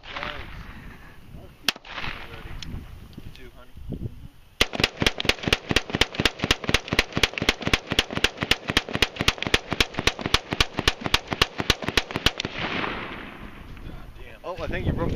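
Gunfire aimed at a rabbit target: a single loud shot, then a long, rapid, evenly spaced burst of dozens of shots fired in quick succession, close and sharp, with some background noise before and after.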